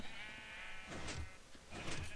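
A brown sheep in Minecraft bleats twice in quick succession, wavering game-style calls heard alone over a steady background tone.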